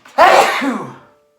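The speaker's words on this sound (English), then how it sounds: "I had to sneeze." A single loud, close sneeze bursts out and trails off quickly.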